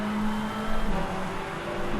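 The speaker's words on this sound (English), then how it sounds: "Horrible McLaren sound." A McLaren race car engine in the racing game Rennsport drones steadily at close range, a thin, flat hum with a slight swell partway through, running alone for two seconds.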